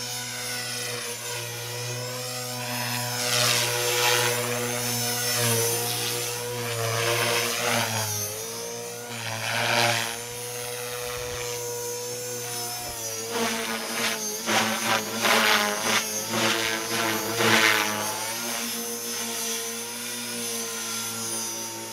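A T-REX 450 PRO flybarless radio-controlled helicopter whines steadily with rotor and electric motor, the pitch rising and falling as it flies, loud and fairly close throughout with brief swells.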